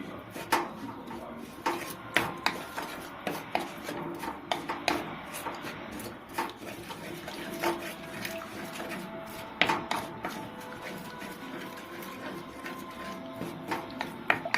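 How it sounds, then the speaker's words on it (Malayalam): A spoon works through bitter gourd theeyal curry with roasted ground coconut in a pan, giving repeated scraping, knocking strokes against the metal in an uneven rhythm, close and moderately loud, with no talk. "ഒന്ന് ഇളക്കി കൊടുക്കാം."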